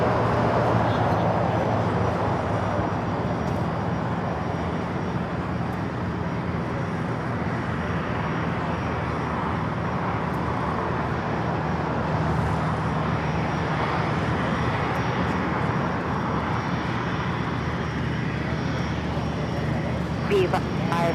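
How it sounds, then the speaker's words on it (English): A Delta Boeing 767 airliner takes off from the north side of LAX, its jet engines a continuous broad roar that holds steady throughout at moderate distance. "The Delta 767 taking off on the north side as we wait for that Viva special livery."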